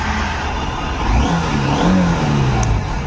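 A Honda Unicorn 160 motorcycle engine revs up and down close by, its loud mid-pitched drone rising in two short bursts.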